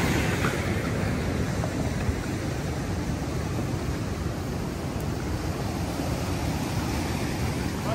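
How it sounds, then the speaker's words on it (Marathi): Sea waves surging at high tide on the Konkan coast near a creek, a continuous loud roar of surf with steady wind noise and no clear breaks. "हा समुद्र किनारा आहे आणि ही खाडी आहे आणि भरती आहे, त्यामुळे समुद्राला खूप उधाण आलंय."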